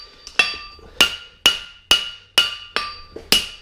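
A hammer strikes hot steel on an anvil during forging: seven sharp, evenly spaced metallic taps that each ring briefly before dying away, close and distinct with no voices.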